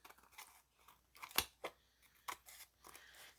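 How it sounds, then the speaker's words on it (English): Scissors snip through altered playing cards used as mixed media bases, with several crisp close cuts spaced irregularly and faint paper handling in between, no talking. "trim them out with my scissors"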